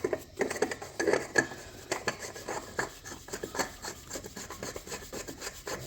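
An oil filter is screwed on by hand beneath a Nissan Patrol during a service. Quiet, close rubbing and scraping strokes repeat in an irregular rhythm, with no talking.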